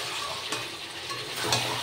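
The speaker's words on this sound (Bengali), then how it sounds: "মাংসটাকে আরও ভালোভাবে কষাচ্ছি" Mutton and whole garlic cloves are stir-fried in an oily pan, giving a steady close sizzle with occasional louder scrapes of the spatula.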